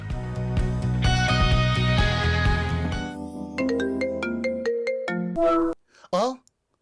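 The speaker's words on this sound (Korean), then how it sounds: "전화 왔다." A telephone ringtone for an incoming call plays loud and close as a bright, chiming melody of repeated notes, then breaks into shorter tones and brief voice-like sounds near the end.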